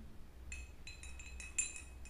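A spoon clinks against a glass several times in quick, light taps while salt is stirred into water, quiet and close with no voices.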